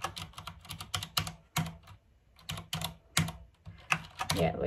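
Quick, irregular clicks of fingers typing on a computer keyboard, close and fairly quiet, in short bursts with brief pauses between.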